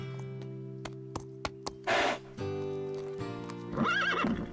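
A horse whinnies loudly, close by, in a long shrill neigh, with a few sharp hoof knocks and snorts before it and a second whinny near the end.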